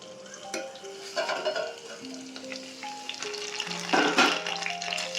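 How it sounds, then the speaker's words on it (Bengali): Potatoes frying in oil with turmeric in a pan, giving a steady close sizzle with brief clinks and stirring scrapes of a utensil against the pan. "এটা ভাজার সময় হলুদ দিলে আমার সত্যি দেখতে খুব ভালো লাগে সেই জন্য আমি কিন্তু হলুদটা দিয়ে ভাজিয়ে দিয়ে দিচ্ছি"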